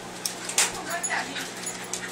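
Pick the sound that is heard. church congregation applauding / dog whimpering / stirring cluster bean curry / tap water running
dog whimpering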